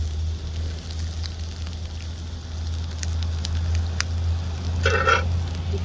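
Food browning in a pan over an open campfire gives a steady low crackle and sizzle, close and moderate in level, with a few sharper pops near the end and no talk.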